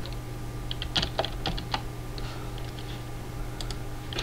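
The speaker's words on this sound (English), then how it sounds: "And we type in Sophocles." Quick, light taps on a computer keyboard come in a short irregular run of clicks over a low steady hum, fairly close and quiet.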